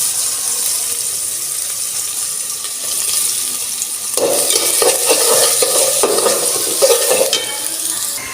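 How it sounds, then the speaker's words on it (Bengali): Onions fry with a little cumin in a pot, starting as a soft hiss and turning into a louder sizzle about halfway, broken by repeated stirring scrapes. "পেঁয়াজগুলো দিয়ে ভালো করে বাজা বাজা করে নিব।"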